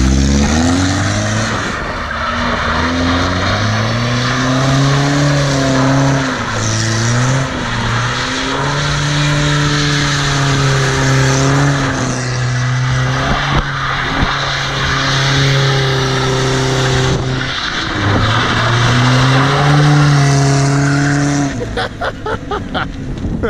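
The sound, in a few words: Volvo automatic car doing a donut slide, tires skidding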